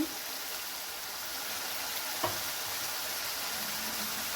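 Masala spices sizzle steadily in a pan for a bitter gourd curry, a constant hissing fry with a faint clink partway through.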